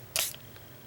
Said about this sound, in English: I'm going to mist my palette with water.